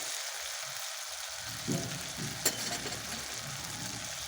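Ground spice masala for an egg and pea ghugni sizzles quietly in a pan, a soft, steady frying hiss with a few stirring scrapes and a small clack partway through, close but fairly faint and with no talking.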